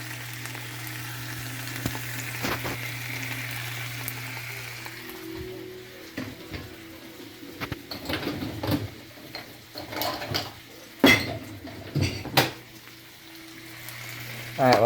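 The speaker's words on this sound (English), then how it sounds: "while this is sizzling away here, cooking for a bit" A pepper grilled cheese sandwich with extra cheese and ham sizzles in a frying pan with a soft, steady crackle, joined by occasional clanks, scrapes and handling noises around the stove.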